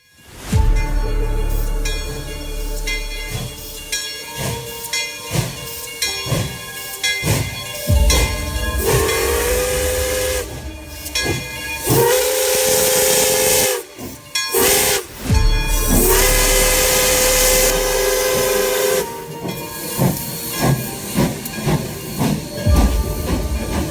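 A steam train of the Dutch colonial-era Indonesian railways, staged in a theatrical reenactment of the 10 November 1945 battle in Surabaya, hisses and chugs loudly while its steam whistle sounds in several long, sustained blasts over continuous rolling rail noise.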